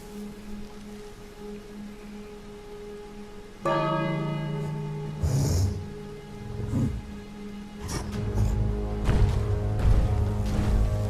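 A bell is rung in King's Quest, starting with a sudden loud ringing strike whose tone sustains and rings out, followed by further clangs and some rumbling game sounds.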